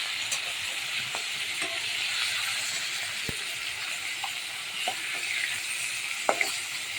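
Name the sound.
fish frying crisp in a pan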